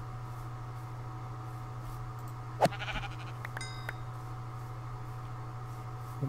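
A blocky Minecraft sheep bleats in the SevTech Ages modpack. One or two short, faint bleats rise over a steady low electrical hum.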